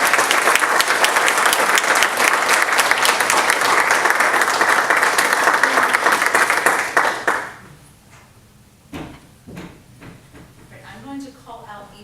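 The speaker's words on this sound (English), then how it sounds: "Let's give them a big round of applause." An audience claps in sustained, dense applause at a Kappa Delta Pi induction ceremony, loud and even for about seven seconds, then cuts off to a quiet room with scattered small noises and faint voices.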